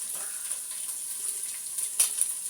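Tomatoes are dropped into onions already frying in a pan for spicy biryani, giving a soft, thin, steady sizzle with a few brief crackling flare-ups, quiet and with no talking.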